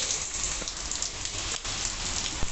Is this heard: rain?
yes